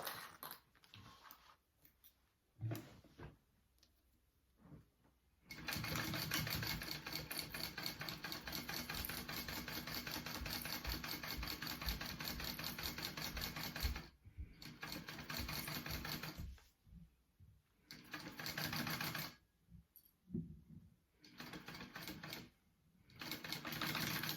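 A sewing machine bastes fabric in fast, steady rattling runs, one long stretch and several shorter bursts separated by pauses, close and moderately loud with no voice over it.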